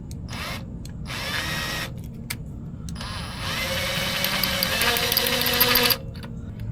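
A power drill whines in bursts, then runs long and steady before stopping abruptly, a close, harsh motor grind with short pauses between pulls of the trigger, drilling out a broken cross pin bolt.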